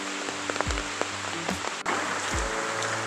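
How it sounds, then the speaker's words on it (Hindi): Rain patters steadily in a garden at a Delhi park, a dense even hiss of drops on surfaces, with a few low thuds and knocks breaking through nearby. "आप सुनते हैं बारिश की मधुर आवाज़।"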